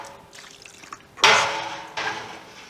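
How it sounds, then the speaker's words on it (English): Gouda cheese curds ladled into a mold, soft drips followed by two louder wet splashes of curds and whey landing close by. "ladle the curds into the mold"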